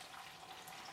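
Water drains steadily from the spigot of a new mash kettle rig, a continuous close splashing hiss with no other sounds.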